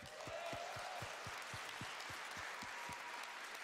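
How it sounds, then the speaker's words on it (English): A church congregation claps for the bringing of tithes and offerings, a steady, rhythmic group applause with evenly spaced beats, fairly faint and sustained throughout. "why are these people clapping for no reason?"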